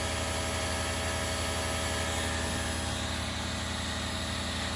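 A 1500 watt brushless DC spindle motor on a CNC mill runs at 8,000 RPM, giving a constant, even hum and whine that stays level throughout with no voices.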